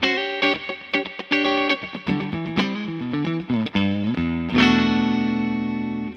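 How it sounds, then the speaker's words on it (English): Clean electric guitar, a 2017 PRS CE 24 with split humbuckers, giving a bright, twangy single-coil tone, playing a quick run of picked notes that ends on a ringing, sustained chord. "Very nice kind of authentic single coil tones."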